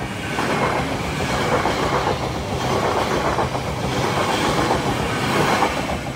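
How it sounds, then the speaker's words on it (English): A passenger train bound for Leeds rolls past a level crossing steadily, with loud rumbling and rhythmic clickety-clack of wheels over the rails and no voices. "Here's our train for Leeds"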